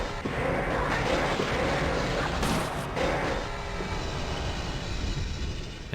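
A train rolls through a Half-Life game level with a dense, steady rumbling roar, loud and continuous, with a brief harsher burst partway through.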